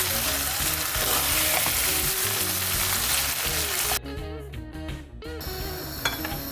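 Minced meat for lasagna sizzling and frying in a pan, a loud continuous crackle with stirring and a few clinks of utensil on metal, briefly dropping in intensity near the end.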